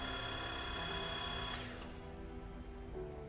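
An Em Pro geared head drill press runs in reverse with a steady mechanical whine and gear hum that shifts partway through as the spindle changes, then settles into a lower drone, fairly faint and with no talk.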